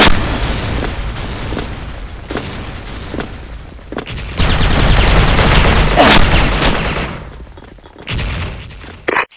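Loud gunfire bursts and booming explosions from a shooter game, sharp repeated shots at first, then a sustained heavy blast-and-rumble passage, a brief pause and a final burst, with no speech.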